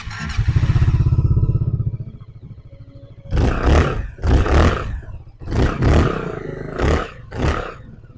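An ARIIC 318GT 300cc scooter engine idles with a steady low throb, then revs in four or five loud, separate bursts that rise and fall close to the listener.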